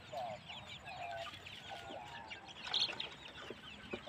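Hmong chickens cluck softly while chicks peep in high, scattered chirps, a quiet hill-village farmyard scene with no talking.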